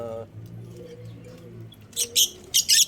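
Small pet birds kept in cages by a retired birdkeeper breeding them give a few quick, bright chirps, clustered in two short bursts near the end after a voice talks at the start.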